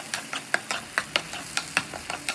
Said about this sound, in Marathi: जिरं चांगलं तडतडल्यानंतर त्यात कांद्याची पेस्ट घालून थोडी लालसर रंग येईपर्यंत परतवून घ्या